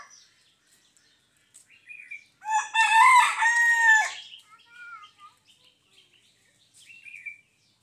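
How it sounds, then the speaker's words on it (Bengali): A chicken gives a single loud crow at close range midway through, preceded and followed by several short, faint clucks in an otherwise quiet setting. "মুরগিটা কোথায় লুকাচ্ছে?"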